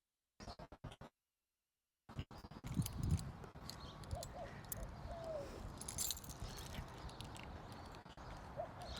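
Keys jingle and clink outdoors during a walk to a mailbox, metallic rattles amid footsteps and scuffing, after a short dropout of silence, with faint birdsong in the background.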